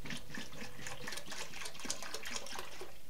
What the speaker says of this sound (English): So we're going to add like half of this gallon of milk